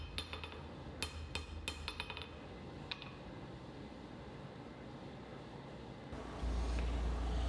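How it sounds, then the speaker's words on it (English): Hammer strikes forging a chef's knife blade flat on an anvil: a handful of sharp metallic blows in the first three seconds, then a low steady hum and faint shop background. "I'm just continuing to forge this flat and try to adjust the shape a little bit via what side of this I'm striking on"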